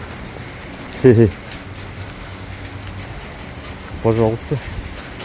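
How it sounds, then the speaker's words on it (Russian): Hail patters steadily outdoors on a riverside embankment in Taraz under a passing cloud, with a broad constant hiss of ice hitting the ground and two brief bursts of a voice over it. "Вот такой лед. Град идет."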